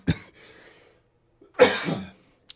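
Two coughs from a nearby adult man, a short sharp one followed after a pause by a longer, harsher burst, close to the microphone in a quiet indoor room.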